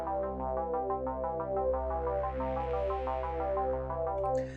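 A synthwave melody plays back in LMMS: bright, sustained synth chords with a steady rhythmic pulse and layered tones over a low bass drone, clean and continuous with no voices.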